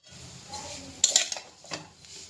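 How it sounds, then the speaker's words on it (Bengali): Vermicelli (semai) frying in a pot, with a faint sizzle under clinks and scrapes of a metal spoon against the pot, one sharper clatter midway, close by. "আমি সিমাই ভাজ দিয়েছি।"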